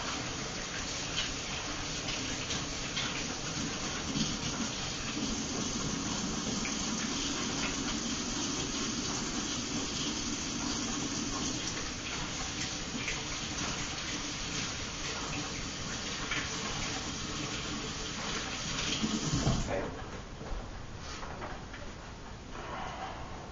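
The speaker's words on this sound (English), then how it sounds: "I'm just going to wash off my hands really quickly" Tap water runs steadily into a kitchen sink during hand washing, a broad continuous hiss that holds for about twenty seconds before cutting off, with quieter handling noise afterward.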